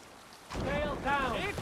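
A sailing boat in Assassin's Creed Valhalla moves over water, with rushing wind and water noise that swells partway through, and a voice is heard briefly over it.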